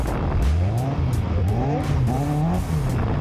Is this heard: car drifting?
yes